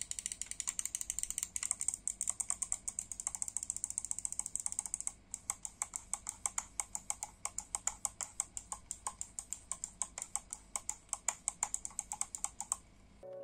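Rexus Arka mouse with Huano switches clicked repeatedly at close range, a long steady run of crisp, bright clicks that starts rapid and settles into an even rhythm with a brief pause midway, no speech.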